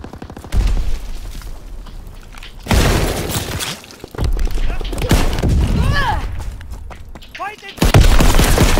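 Call of Duty: WWII multiplayer battle with a grenade blast and bursts of rifle and machine-gun fire, sharp loud reports and booms arriving in clusters, with radio-style announcer calls and whistling shell effects between them.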